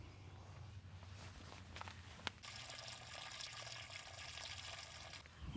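Water rushes from an opened fresh water valve underneath a camper at a seasonal site, starting after a few faint knocks and then flowing as a steady, close, hissing stream to the end.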